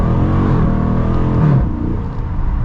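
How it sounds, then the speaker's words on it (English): A 2021 Dodge Challenger Widebody Scat Pack Shaker accelerates hard, its engine roaring loud and close with a rising note that eases off near the end. "Get our acceleration here with the wide body shaker."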